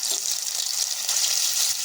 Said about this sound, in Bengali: ফোড়নটাকে ভেজে নিয়ে দিয়ে দিচ্ছি 1 চামচ আদা জিরা বাটা।